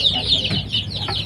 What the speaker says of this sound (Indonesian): Ini ayam KUB.